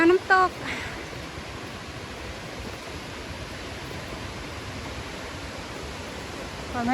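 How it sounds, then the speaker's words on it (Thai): The Triberg waterfall in Germany in autumn rushes in a steady, loud broadband roar throughout, with a brief burst of voices near the start. "ถึงแล้วน้ำตก"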